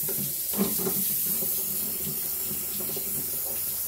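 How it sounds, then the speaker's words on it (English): Cold tap water runs steadily from a faucet into a container, a continuous close hiss and splash that holds even for about four seconds with no talking. "I'm going to fill it up to almost to the top with cold tap water."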